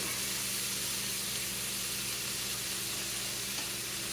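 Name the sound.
corn sizzling in a hot pan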